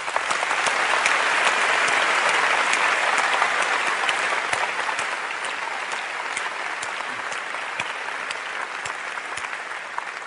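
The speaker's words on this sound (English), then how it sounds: "I'd like to give them a round of applause" A large keynote audience at Macworld New York 2002 claps steadily for the software teams, a loud, sustained wash of applause that eases slightly toward the end.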